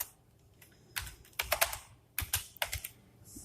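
Code being typed on a computer keyboard, bursts of close, crisp key clicks in irregular clusters separated by brief pauses, fairly quiet and with no talking.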